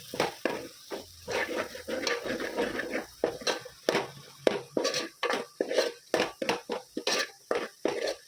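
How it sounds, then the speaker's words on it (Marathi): A spoon scrapes and clinks around a metal bowl, mixing dry ground spices with chilli and garam masala for a spicy Savji-style goat head curry, in steady close rhythmic strokes with no talking. "आणि आता हे सर्व मसाले आपण मिक्स करून घेऊ."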